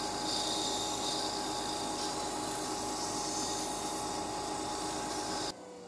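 Sandpaper works through the grits on a small wooden box spinning on a Coronet Herald lathe. It makes a steady, close, hissing rasp that runs unbroken and then stops abruptly near the end.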